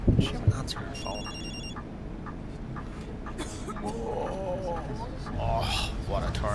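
A phone rings briefly in a bus simulator game aboard a MAN Lion's City double decker, a short electronic trill near the start, with someone talking over bus engine and road noise.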